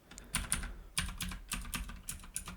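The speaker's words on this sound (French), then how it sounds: "Dites-moi si vous voulez une ASMR clavier d'ailleurs." Rapid typing on a computer keyboard, close up, with clustered bursts of clicky keystrokes and brief pauses between them.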